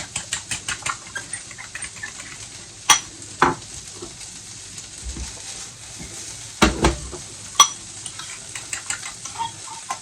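Potatoes, herbs and eggs cook in a frying pan with peppers and onion, a steady sizzle and frying under repeated sharp scrapes and clinks of a utensil against the pan.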